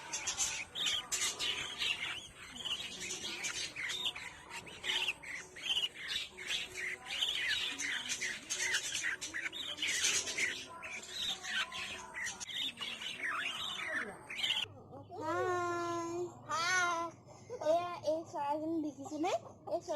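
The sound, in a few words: pet budgerigar parrots chirping and squawking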